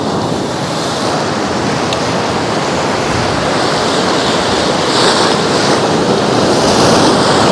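Sea waves break on a beach at a high shoreline in Anapa, a continuous loud roar of surf that swells slightly toward the end, with no voices.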